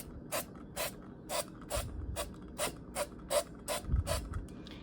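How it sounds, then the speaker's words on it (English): A pump sprayer jar mists oil over kale in a bowl for the air fryer: about ten short, hissy spritzes in a steady rhythm, close but fairly soft. "and I'm going to spray it."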